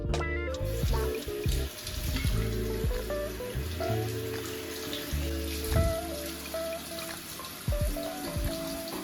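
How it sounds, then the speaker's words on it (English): Running water splashes steadily over the shower screen and basket filter of a Staresso SP-300 espresso maker, with light clinks and taps of metal and plastic pieces being rinsed under a tap. "Just don't forget to rinse the shower screen and basket filter."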